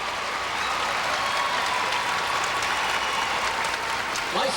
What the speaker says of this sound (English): A nice round of applause for Viktor Petrenko.